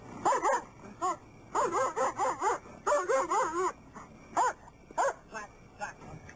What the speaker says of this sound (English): Deputy Paul Thompson arrived on the scene with his dog Ando.